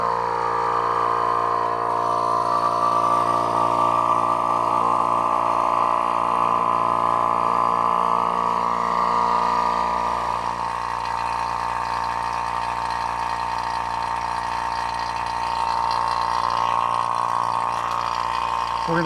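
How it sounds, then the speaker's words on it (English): An Elitech vacuum pump runs steadily while degassing epoxy, a continuous droning motor hum with a tonal whine, constant in level throughout with no voices. "we're going to open the vacuum valve, and we're going to start the pump."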